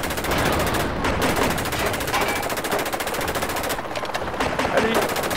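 Machine gun fire in the VR video game Bandit Six: Combined Arms on PSVR, sustained rapid bursts that are loud and continuous, with brief pauses between strings of shots.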